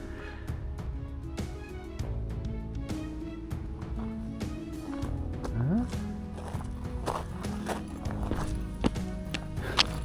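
Horses' hooves clip-clop steadily at a knights' jousting show with lances, near Château de Montcornet, amid crowd murmur and voices, with an occasional whinny and scattered louder knocks.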